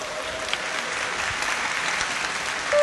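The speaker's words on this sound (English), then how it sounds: "please clap your hands to warmly welcome the fashion show" Audience clapping welcomes a fashion show of Vietnamese ethnic dress at a Vietnam Day event, a steady mid-loud wash of applause from a crowd, ending with a brief tone.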